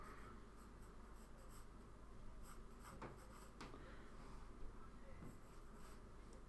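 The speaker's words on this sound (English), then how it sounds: "I'm just kind of tickling the paper." A pencil lightly sketches on paper with barely any pressure, giving a faint, close, continuous scratchy rustle broken by a few brief, sharper strokes.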